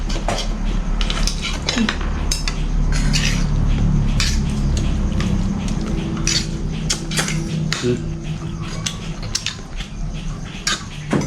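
Cutlery and dishes clink steadily during a meal, spoons and forks scraping and tapping on plates, close and moderately loud with faint background murmur.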